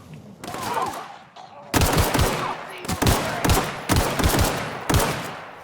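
Gunfire in The Outer Worlds video game: loud, close bursts of shots in several clusters, each a quick run of sharp cracks separated by brief pauses.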